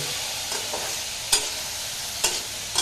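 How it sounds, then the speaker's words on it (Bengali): Bottle gourd leaves cook in a pan on a home stove while a utensil stirs them, giving a soft continuous sizzle broken by a few sharp scraping clicks. "এই যে এখানে লাউ শাক রান্না করতেছে"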